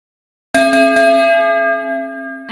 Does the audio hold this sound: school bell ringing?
yes